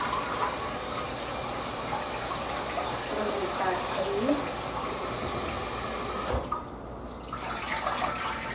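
Tap water runs steadily into a sink as rice is rinsed in a home kitchen, a broad continuous splashing hiss that cuts out briefly near the end before resuming.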